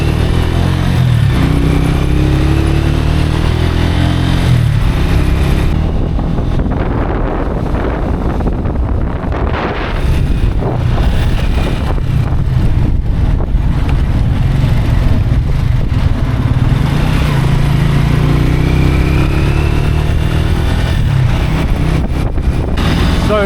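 Uber motorbike ride through Cairo traffic, a steady loud engine drone with heavy wind buffeting on the microphone throughout, traffic noise mixed in and no talk.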